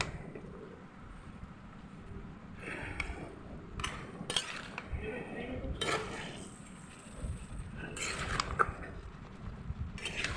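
A utensil is set over a pot of simmering curry in a home kitchen, giving a few scattered metallic clinks and clanks over a low, steady background rumble, with no talking.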